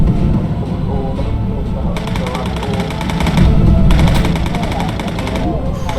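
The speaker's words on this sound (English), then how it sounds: "That is a hell of a lot of flak, though." Anti-aircraft flak and gunfire in the Bomber Crew video game: dense, loud, continuous rattling bursts and booms that swell in the middle and never let up.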